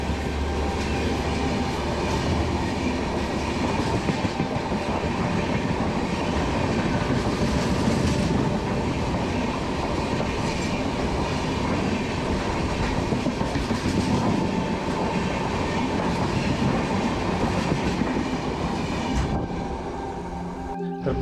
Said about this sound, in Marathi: समोरून ट्रेन येणार होती आणि समोरून जी बघता ही आलेली ट्रेन ह्याच्यासाठी क्रॉसिंग चालू होती।